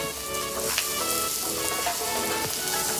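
Carrot, beans and potato sautéing for veg biryani, a steady loud sizzle of frying with light stirring scrapes, continuous throughout and free of talk.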